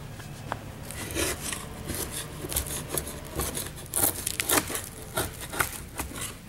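Rough scraping and rasping strokes of a scraper lifting loose paint off a wooden window sash, close and irregular, with scratchy bursts and light crackles of flaking paint.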